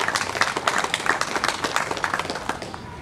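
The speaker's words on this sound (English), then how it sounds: "So I'd like to just give an extra applause here to David Rovix." An audience at a commemoration of the 1877 General Strike claps in dense, uneven bursts. The applause is close and lively at first, then thins and fades slightly toward the end.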